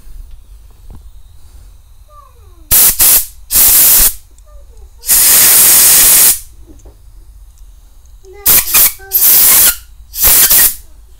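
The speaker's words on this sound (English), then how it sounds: "if you don't have a compressor, then you can always use a tin of compressed air" A tin of compressed air sprays a Suzuki GS 500 motorcycle carburettor in several loud, sharp hissing bursts of varying length, separated by quiet pauses with faint background sounds.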